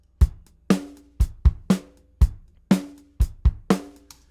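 Programmed drum beat from a backing track, with hi-hat, snare and kick drum hits in a sparse, steady pattern of sharp, punchy strikes with short decays, alone and clear.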